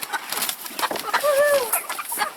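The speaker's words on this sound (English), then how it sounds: "this is the last batch of chickens" Black Copper Marans chickens give a close run of soft clucks and a few higher, drawn-out calls. No one speaks.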